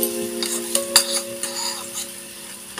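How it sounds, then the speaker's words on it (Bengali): Grated tomatoes going into a pan of cooking paneer curry, a close stirring and scraping with a light sizzle and several sharp utensil taps against the pan. "টমেটো গ্রেট করে নিয়েছিলাম এগুলো দিয়ে দিলাম"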